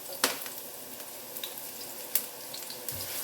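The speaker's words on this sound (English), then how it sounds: "my onion is already sizzling" Chopped onions sizzle in oil in a wok while fried rice is being made, a steady soft frying hiss with a few sharper pops and crackles scattered through, close by with no talking.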